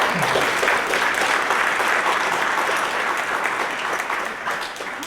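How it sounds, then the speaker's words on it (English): Audience at an evening community mobility meeting in Chicago giving a round of applause for a panel, a loud sustained wash of many hands clapping that tapers slightly at the end. "So round of applause for our panel before we introduce."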